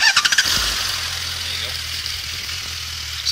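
A 2016 Suzuki GSX 1250 FA Bandit motorcycle is started with the clutch pulled in: a few quick cranking pulses, then the engine catches and settles into a steady idle. A high whine sits over it, and a voice is present.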